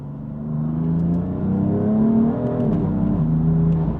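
A BMW M4 Competition accelerates, its engine rising steadily in pitch with a smooth, close, continuous drone, dipping slightly at a gear change before pulling again; no talking is heard.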